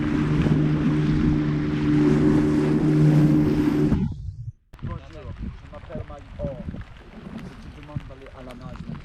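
Boat motoring across a large lake in wind, with a steady droning engine hum and wind noise that cut off abruptly, followed by rustling, splashing and voices talking.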